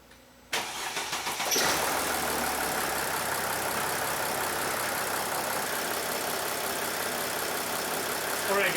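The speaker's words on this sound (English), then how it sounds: "As you can hear, the engine is running." A 2008 Mercedes GL320 engine, just after a radiator replacement, cranks briefly and catches, then settles into a loud, steady idle that carries on to the end, with no talking.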